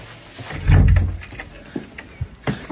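A door in a home swings shut with a heavy thud, followed by a few small clicks and knocks as it is locked, close and alone.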